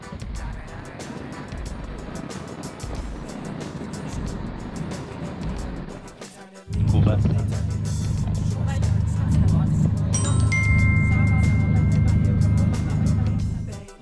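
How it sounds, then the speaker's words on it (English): Big orange bus at Phuket airport, its diesel engine rumbling loudly and steadily close by after a quieter stretch of traffic and ambient noise, with a high whine rising over the idle; someone talks throughout. "Big orange bus here."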